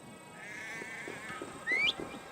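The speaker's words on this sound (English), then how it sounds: "It works. The sheep follows my whistle." In the Assassin's Creed Valhalla video game, a long rising whistle is followed by a sheep's bleat, both moderately loud over quiet ambient game sound.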